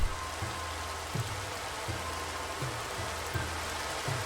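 Heavy rain in the game Minecraft, a steady dense hiss of falling water filling the scene at an even level, with soft low thumps recurring roughly every second underneath.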